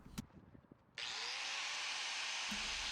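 An angle grinder cuts a steel bar to length in a garage, starting abruptly after a second of light handling knocks and holding as a loud, steady, high-pitched shriek for the rest of the clip.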